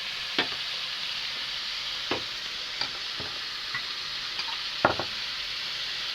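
Ginger, garlic and onion fry in a pan with a steady close sizzle, cut through by several sharp spatula scrapes and knocks while the mixture is stirred into a spice paste.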